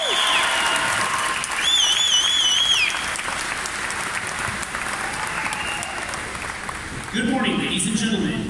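An audience applauds at a Marine Corps recruit graduation ceremony, a broad wash of clapping with whistles and shouts rising early, then fading as a voice speaks over a loudspeaker.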